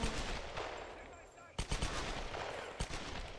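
Gunfire rings out in the video game Tomb Raider: a sharp loud shot at about one and a half seconds, then a couple more reports over a steady background of game ambience.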